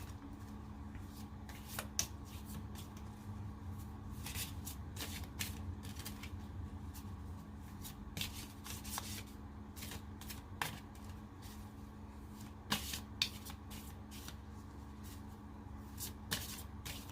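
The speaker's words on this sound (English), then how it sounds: "I am going to finish the reading by pulling a card from my Spirit of the Wheel" A Spirit of the Wheel oracle card deck being shuffled by hand, soft repeated riffling and flicking of cards in uneven bursts over a steady low background hum, close and quiet.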